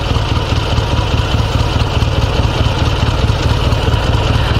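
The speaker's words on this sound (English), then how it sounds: "This engine is working fine." Dnepr 16 sidecar motorcycle engine idling at night with slightly high idle speed, a steady close rumbling throb that holds evenly throughout without any talk over it.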